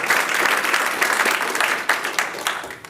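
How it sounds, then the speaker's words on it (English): Sustained applause from a data conference audience, steady clapping throughout with a few sharper individual claps standing out. "A warm applause."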